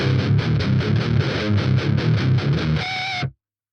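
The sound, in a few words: guitar distortion effect through Vox ToneLab EX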